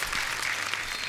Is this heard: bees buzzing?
no